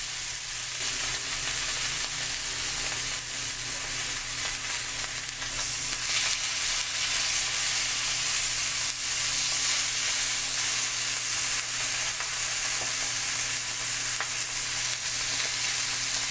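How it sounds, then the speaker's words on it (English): A thick filet mignon sears in a hot pan, giving a constant loud sizzle and crackle of frying fat that runs without a break, with no talking. "You want to make sure you seal every single side so the juice starts dropping inside."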